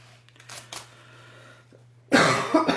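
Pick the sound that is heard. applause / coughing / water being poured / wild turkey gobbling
coughing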